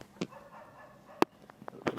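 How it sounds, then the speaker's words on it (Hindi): Dogs bark at night somewhere in the distance, giving a few short, scattered yaps and woofs against a quiet background. "रात को कुत्ते भौंक रहे हैं"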